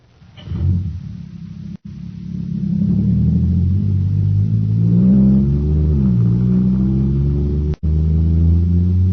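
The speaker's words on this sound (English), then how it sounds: "Wow, this jet cycle is supercharged now." A supercharged jet cycle engine, a sound effect from a radio space drama, starts with a burst and then holds a steady rumbling drone that rises and falls in pitch as it revs, loud and close with no voices.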